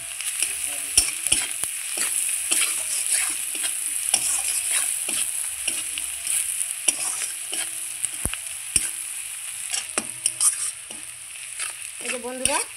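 Onion and garlic fry in hot oil in a pan, a constant bright sizzle close by with repeated scraping stirs of a spatula throughout.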